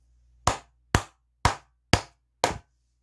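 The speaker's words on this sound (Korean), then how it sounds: "크게 끼리박수 한번 치고 가도록 하겠습니다" Five loud, sharp hand claps land in a slow, even rhythm, each a crisp close smack with a quick decay into silence, and no one speaks.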